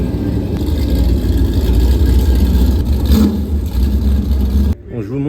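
Loud engines of racing trucks and NASCAR stock cars running on a circuit, a steady roaring drone that cuts off abruptly near the end.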